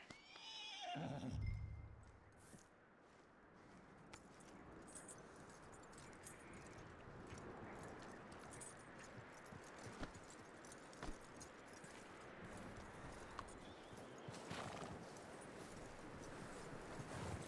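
A horse whinnies loudly at the start in Red Dead Redemption 2, followed by faint clip-clop of hooves, jingling tack and quiet ambient game sounds.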